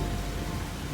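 Steady, dense rain with a low thundery rumble beneath it, continuous and fairly loud throughout, heard during a drive in a storm; no voices.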